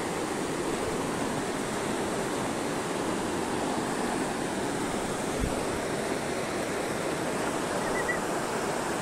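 The Melamchi river in Sindhupalchok on the Helambu trek rushes past in a constant, dense roar of flowing water, steady and enveloping with no voices over it.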